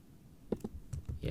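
Several short mouse clicks on a computer, spaced irregularly and fairly quiet, with faint background noise between them.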